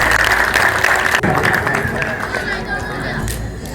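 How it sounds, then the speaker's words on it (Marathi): Audience at a doctors' association cultural evening clapping together to welcome guests, a dense, loud, steady wash of applause with crowd babble mixed in, easing slightly toward the end. "सगळ्यांनी टाळ्या वाजवून त्यांचं स्वागत करावा. One big huge clap."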